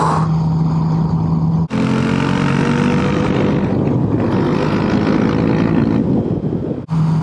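Motorcycle riding along a mountain road in Sardinia, a steady engine drone with shifting pitch under heavy wind buffeting at the microphone, interrupted by brief dips.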